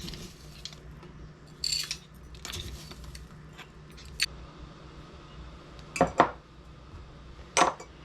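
A tablespoon of dried onions spooned into a glass mason jar while making a goulash mix, heard as a few sharp clinks of spoon on glass with light rustling scrapes between them, spread out over a quiet room background.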